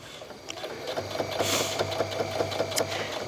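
A sewing machine stitches neoprene jacket fabric close to a raw edge, a steady, fairly loud mechanical whir with a fast regular needle rhythm running throughout.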